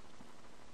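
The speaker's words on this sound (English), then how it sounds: "you're going to set the precipitation type to rain" Steady rain hiss from a func_precipitation rain effect in a Counter-Strike-style map built in Valve Hammer Editor, a dense, even wash of falling drops with no other sounds.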